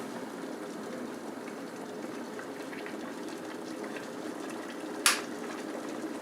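An electric kettle rumbles steadily as water boils, a constant bubbling hiss, ending with a sharp click as it switches off near the end.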